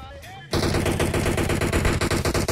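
Rapid automatic gunfire in the mobile game PUBG Mobile kicks in abruptly after a brief quieter start and continues as a dense, loud, sustained burst of shots.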